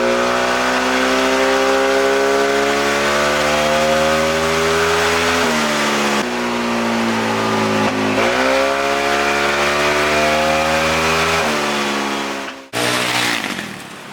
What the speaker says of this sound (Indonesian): kita lakukan dyno ya untuk menguji kondisi mesin